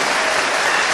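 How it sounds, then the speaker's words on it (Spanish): Audience applause at a religious debate between a Catholic priest and an evangelical Christian, a dense, steady wash of clapping that fills the whole moment without pause. "A fuerte aplauso para este hermano."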